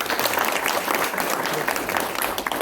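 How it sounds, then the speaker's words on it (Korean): A crowd claps steadily at a Korean speaking contest in Namangan, Uzbekistan, dense applause filling the whole stretch at an even, fairly loud level with no break. "질문 없으시면 박수 부탁드립니다."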